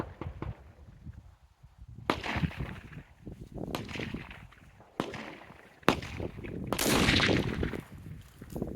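A target rifle fires a few sharp outdoor shots with short echoing tails, spaced several seconds apart, and wind or movement noise between them.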